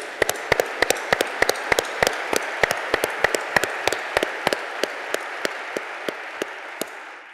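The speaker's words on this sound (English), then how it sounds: "let's give them a round of applause" Applause for healthcare teams at a Milwaukee business members' meeting: crisp, fairly close claps over a dense crowd wash, strong at first and then gradually thinning and fading toward the end.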